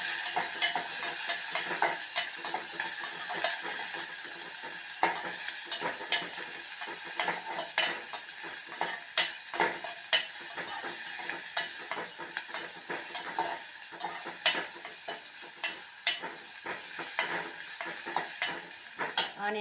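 Sliced onion and green chillies fry in hot oil while being stirred for an oats pulao. A constant sizzle runs under repeated scraping, clinking stirs of a spoon against the pan, close by with no talking.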